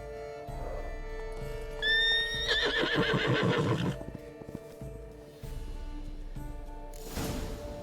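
The horse Roach from The Witcher 3 gives one loud, close whinny that rises and wavers for about two seconds over a low game ambience, with soft hoof shuffling and noise afterward.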